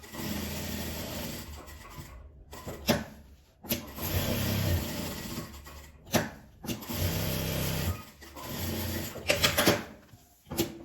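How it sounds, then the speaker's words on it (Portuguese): A sewing machine stitches fabric scraps into a phone holder, its motor whirring close in repeated bursts of a second or two separated by brief pauses, with no talking. "E vou costurar, dando a volta daqui até a parte de cima."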